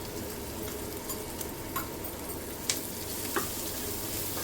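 Ponnaganti greens fry steadily in a pan with turmeric added, a constant low sizzle broken by a few light stirring scrapes and taps, with no talking.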